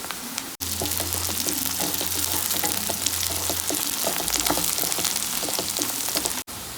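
Onions and dried red chillies fry in a pan with a continuous loud sizzle and crackle, steady throughout apart from a brief dropout at each end.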